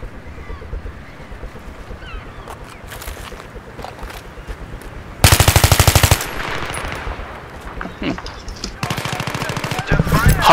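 Rapid automatic gunfire in a shooter video game, loud bursts of repeated shots over continuous game background noise, with a steady rattling stretch midway and more shooting toward the end.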